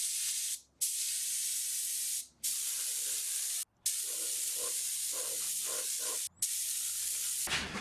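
Spray gun applying a tack coat of finish onto a mandolin body, loud steady hissing bursts interrupted by four brief pauses, close and alone without talk.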